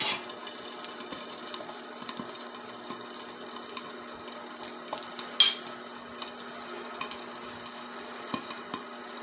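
Eggs fry in corned beef nests in a pan, giving a steady close sizzle with soft crackles and one sharp clatter midway. No one speaks.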